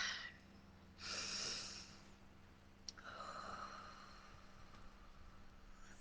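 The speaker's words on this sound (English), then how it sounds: "Take a deep breath." A single person takes a slow, deep breath, a soft drawn-in inhale followed by a longer, airy exhale, close and quiet with no talking.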